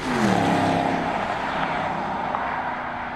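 A steady BMW engine drone heard from inside the car, a low buzzy hum rising slightly in pitch and holding.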